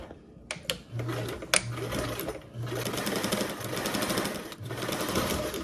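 A sewing machine top-stitching across the top of a mesh panel for a bag runs in several short bursts with brief pauses between them, close and steady, with no talking.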